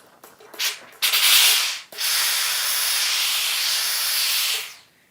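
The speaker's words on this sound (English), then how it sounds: "so I'm just going to pop a little bit of steam on there." Steam hisses in loud, steady bursts onto a dried-out baby wipe in a craft workshop, with a short spurt, a brief break, then a long continuous spray lasting several seconds before cutting off.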